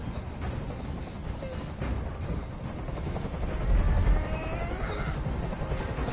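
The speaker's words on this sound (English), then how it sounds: "I can't stand that noise anymore. Tell that helicopter to get out of here." A helicopter in Detroit Become Human, giving a continuous loud rotor drone and broad rumble that holds steady throughout, with faint other noises mixed in.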